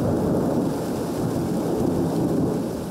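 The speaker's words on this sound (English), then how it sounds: "and it's raining again. But it's only a passing shower" Rain from a passing shower falls steadily outdoors at dawn, a dense, even hiss of drops that stays constant and fairly loud throughout, with no voices.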